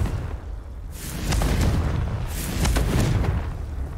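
Confringo blasting spell exploding in Hogwarts Legacy, a deep rumbling boom that rolls on for a couple of seconds followed by a second burst, loud with no speech over it.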